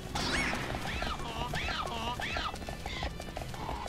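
A horse neighing and galloping in the video game Happy Wars, several rising whinnies over rhythmic clip-clopping hooves amid battle noise, with players talking over it.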